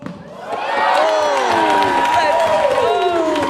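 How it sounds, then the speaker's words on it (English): A loud crowd at an NAPC skill and style competition roars and cheers continuously, with whoops rising above the din and the level so high it overloads the nearby microphone. "Crowd's so hyped that the mics can't even take it"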